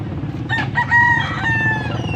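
A rooster crows once, loud and close, its drawn-out call rising and trailing off over a low background hum.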